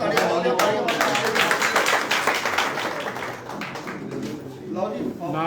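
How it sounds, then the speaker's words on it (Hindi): Clapping from the audience at a political joining event in the presence of a deputy chief minister, a dense patter of many hands that starts loud and gradually thins, with voices murmuring underneath. "और तालियां बजाओ, तालियां बजाओ।"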